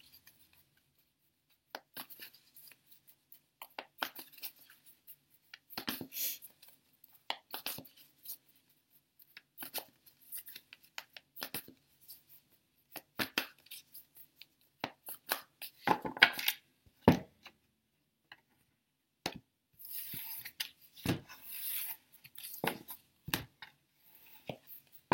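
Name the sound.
shuffling tarot cards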